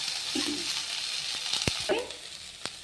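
Cooked beans added to a hot pan for bean palya, frying with a soft sizzle, a few stirring scrapes and clinks, and brief taps against the pan.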